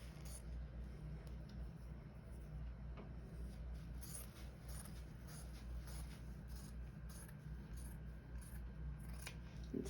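Scissors snip through a single layer of swimsuit cover-up fabric up to the fold, giving a run of quiet, close, repeated crisp cuts over a faint low background hum.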